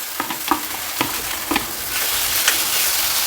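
Boiled potatoes dropped into a pan of frying peas and spices, with a steady sizzle and a few sharp scraping stirs of a spoon against the pan.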